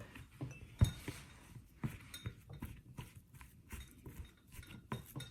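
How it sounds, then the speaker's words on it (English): A fork mashes bananas for banana bread in a bowl, giving a steady run of soft squishes and light clinks of metal against the dish, close and moderately quiet, with no talking. "Let me just mash it up"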